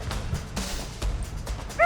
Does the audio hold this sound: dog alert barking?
yes